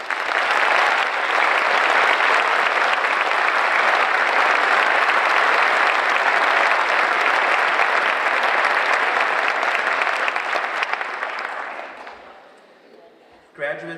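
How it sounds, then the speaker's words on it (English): Loud, sustained applause from a large audience at a high school honors night, honoring armed forces members and first responders; dense clapping holds steady for about twelve seconds before dying away quickly. "Ladies and gentlemen, please join me in a round of applause."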